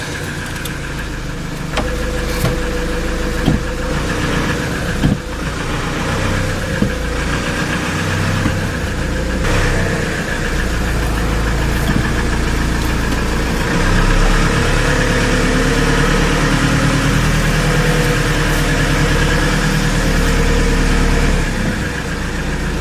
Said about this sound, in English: Let's start the engine and go on a test drive.